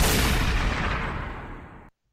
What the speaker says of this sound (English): Did you survive the explosion?